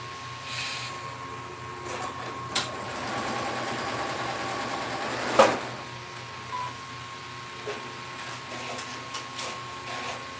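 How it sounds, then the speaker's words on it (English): A sewing machine stitches a seam on fabric, a steady whirring run with small clicks and one sharp knock partway through, close by with no talking. "I'm going to run over and sew this last seam"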